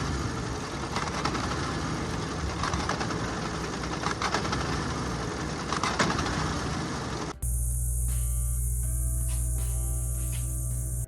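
Car engine running warm with a failing AC compressor or clutch bearings, a loud steady mechanical drone with rattling knock, shifting abruptly to a different, tonal whine partway through.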